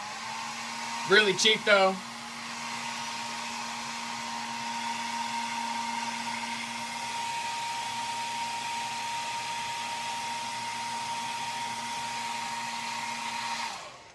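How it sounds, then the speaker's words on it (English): A blow dryer heat-sets the paint on an airbrushed bluegill crankbait lure, giving a steady, fairly loud whirring drone that runs unbroken for about twelve seconds after a short burst of speech at the start. "To heat set, all I use is a blow dryer."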